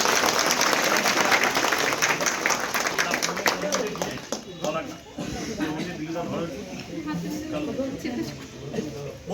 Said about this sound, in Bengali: সামনে দেখতে সবাই মিলে আমরা জোরে করতালি হাতটা দিয়ে